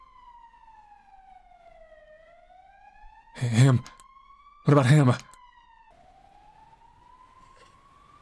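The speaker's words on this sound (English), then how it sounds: "An ambulance, huh?" A wailing ambulance siren in the video game Cold Front sweeps steadily up and down in pitch throughout, with two short bursts of speech cutting in over it midway.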